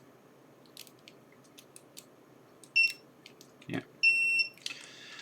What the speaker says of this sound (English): Okay, the beeper is on, so this should beep.